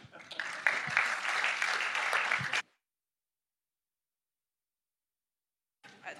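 An audience at an architecture school open day in Paris bursts into applause, a dense burst of clapping for a couple of seconds that cuts to silence, with another burst starting at the end.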